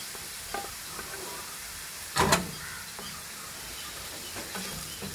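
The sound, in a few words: onion and tomato being sautéed and stirred in a pan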